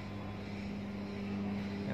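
A small blower machine runs with a steady, continuous motor hum that grows slightly louder toward the end, with no speech over it.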